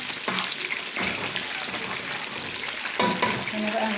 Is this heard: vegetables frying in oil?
yes